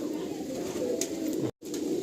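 Restless pigeons in a loft give a low, continuous cooing, close by and fairly loud, broken by one brief gap of silence.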